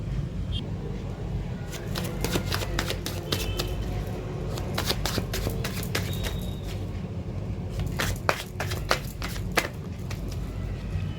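Tarot cards are shuffled and riffled in a burst of crisp, repeated flicks and taps close by, continuing steadily with a louder flurry near the end, over a quiet background hum.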